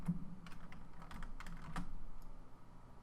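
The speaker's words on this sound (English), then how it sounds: "the buttons I'm clicking like on my keyboard" Keys clack on a computer keyboard in quick, irregular bursts, close and crisp, with a few louder taps mixed in.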